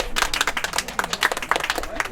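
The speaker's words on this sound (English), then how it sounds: "Let's give them a round of applause." Applause from the audience at a wine tasting event, a dense run of hand claps filling the room at moderate loudness for a couple of seconds, with voices mixed in underneath.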